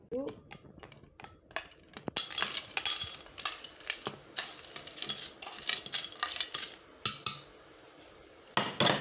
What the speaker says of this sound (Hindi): ये बर्फ़ के क्यूब डालेंगे इसमें हम